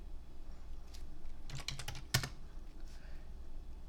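Typing on a computer keyboard while entering a product quantity into a sheet: a short burst of several quick, close key clicks ending in one sharper, louder keystroke, over a quiet room hum with no talk.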